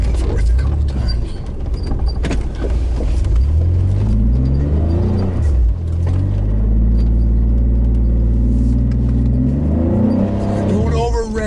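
A car engine revs up and down in fresh snow as the vehicle rocks back and forth, a low steady rumble swelling and easing in repeated surges, close and loud.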